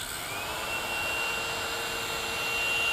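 A thin, handle-less vintage travel hair dryer runs with a steady airy whoosh and a faint high whine rising slightly in pitch at the start, close and continuous with no talking.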